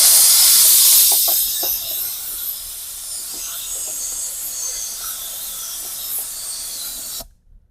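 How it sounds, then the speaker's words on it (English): A compressed air hose blasts loudly into the cracks of a car cup holder during interior detailing, a strong hissing rush that eases into a steadier blow with faint clicks before cutting off abruptly. "the final touch is this air hose. This blows out the cracks."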